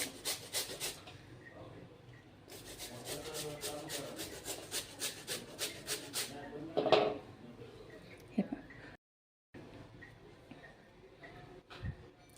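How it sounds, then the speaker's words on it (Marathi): Potatoes rubbed by hand against a grater for parathas, a quick run of rhythmic rasping strokes, pausing and then resuming in shorter bursts, close and fairly quiet. "आता मी करते बटाट्याचे पराठे तर बटाटे पहिले किसून घेते मी"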